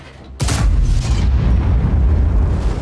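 A single loud, close tank gun blast from the BZ-75 in a tank video game on the Fisherman's Bay map. The sharp boom is followed by a long, deep, rumbling tail.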